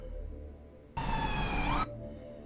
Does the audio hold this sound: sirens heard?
yes